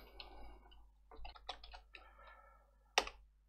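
Typing on a computer keyboard, quiet irregular clusters of key clicks with a few pauses, ending in one sharper, louder keystroke near the end; no voices.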